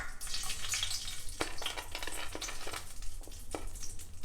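Whole spices such as cardamom hitting hot oil for a North Indian style chicken curry, giving a steady close sizzle and frying hiss with a few sharp crackles and stirring clinks.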